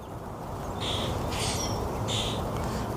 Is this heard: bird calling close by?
yes